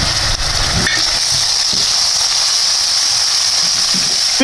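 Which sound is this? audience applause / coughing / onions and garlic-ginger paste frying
onions and garlic-ginger paste frying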